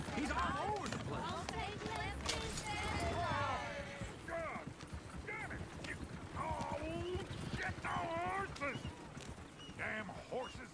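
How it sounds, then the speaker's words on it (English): Horses gallop in Red Dead Redemption 2, hooves pounding in a busy, continuous patter beneath almost constant overlapping voices and shouting. "Damn horses!"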